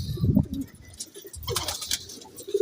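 Sialkoti choya pigeons coo in short low throaty bursts, one close and loud at the start with softer coos and bird rustling following, amid faint background noise.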